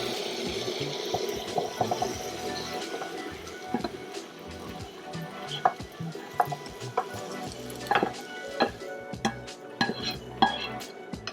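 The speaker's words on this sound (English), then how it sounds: "I think our turkey is done. I am going to put it into the soup." Cooked turkey goes into a pot of soup in a home kitchen, with a run of sharp clinks, knocks and wet splashing against the pot, irregular and close, with no talk.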